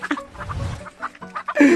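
A chicken being caught gives a few short, agitated clucks in quick succession, close and fairly loud, with rustling between calls.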